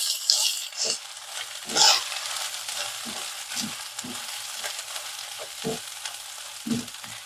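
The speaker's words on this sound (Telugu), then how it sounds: "ఇలా తాలింపు అంతా వేగిన తర్వాత మటన్ ఇందులో వేసేసుకోవాలి" Spices sizzle in a hot pan as the tempering for a mutton curry fries, with soft crackling and intermittent stirring scrapes, fairly quiet and without speech.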